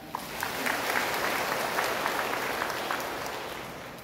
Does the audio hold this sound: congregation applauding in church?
yes